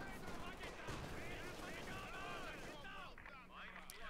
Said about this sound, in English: Yeah, the machine gun.